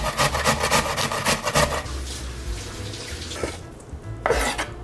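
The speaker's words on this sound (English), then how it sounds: "Now we're gonna grate the onion." Onion grated by hand on a grater for Filipino shrimp fritters, giving a rhythmic series of close, rasping wet strokes that fade and return in short bursts, with no talking.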